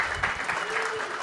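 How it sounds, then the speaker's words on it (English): A comedy-show audience claps in a brief burst of dense applause, with a voice talking over it. "big round of applause"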